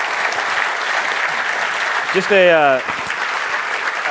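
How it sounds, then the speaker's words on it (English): Conference audience applauds at the close of a DevOps Enterprise Summit talk, steady clapping over the first couple of seconds before a voice cuts in briefly and the applause continues underneath. "So if everyone give Dianne and Roy a round of applause"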